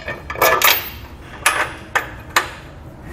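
Sharp metallic knocks and clanks ring out as bolts are threaded through a Roadmaster Direct-Connect tow base plate into factory weld nuts on a 2017 Jeep, a cluster of close impacts followed by three separate spaced hits.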